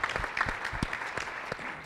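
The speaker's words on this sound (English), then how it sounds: "So let's give them a big round of applause" Brief burst of dense audience applause at the DigitalInfraMontreal 2019 data center conference, steady clapping with a few sharper individual claps standing out.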